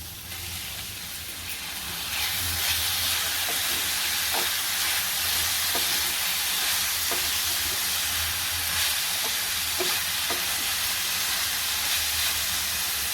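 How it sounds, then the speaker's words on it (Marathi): Tomatoes dropped into a frying prawn masala set off a loud, steady hiss of sizzling oil that swells after a couple of seconds and keeps going, with faint periodic clicks of stirring underneath. "आता टोमॅटो घालूया"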